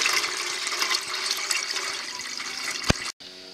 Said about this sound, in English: add your material to your dye bath. Get it nice and submerged